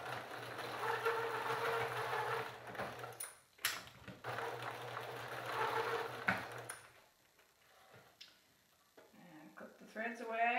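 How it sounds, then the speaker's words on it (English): A sewing machine runs in steady bursts, stitching two channels down the seam ditch of a fabric face mask, with a brief pause midway before it stops and a voice follows near the end. "I'm going to make 2 channels by stitching down in the"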